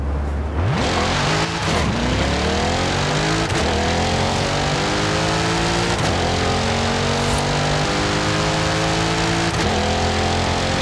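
A Corvette E-Ray hybrid V8 in Forza Horizon 5 launches hard. The loud engine roar climbs steeply through the gears, with repeated rising sweeps and brief dips at each shift, and it runs close and alone throughout.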